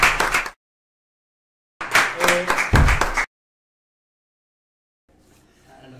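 Audience applause at an academic lecture on African philosophy, heard as short bursts of clapping separated by silence, the second burst fuller and louder, with a faint murmur of voices at the end.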